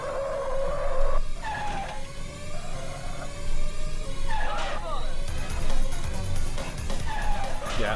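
Race cars spin out and skid in the Virtua Racing video game, with loud tonal tyre squeals rising and falling over engine drone, punctuated by abrupt scrapes.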